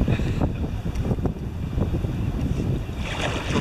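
Wind gusting over the Allegheny River during a canoe trip, a steady broadband rush of microphone buffeting and moving air with faint water sounds beneath, continuous and fairly loud throughout.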